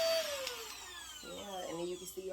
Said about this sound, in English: I don't know who's that excited about a vacuum cleaner, but I definitely am.